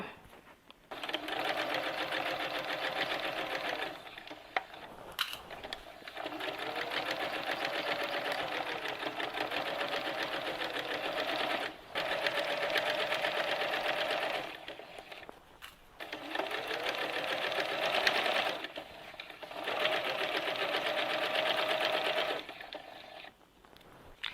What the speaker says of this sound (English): double stitch the stocking all the way around